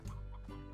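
Stony hens in the game Slime Rancher give short, close clucking calls, a quick run of fowl-like clucks lasting under a second with no talk over them.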